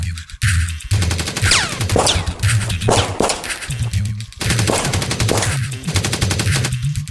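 A voice rapidly imitates machine-gun fire with repeated percussive bursts for several seconds, loud and close, mimicking guns in an Australian setting.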